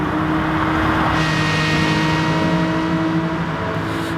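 BMW race car engine at Bathurst in Gran Turismo Sport, a loud steady high-revving drone holding near one pitch with a slight shift partway through, close and continuous.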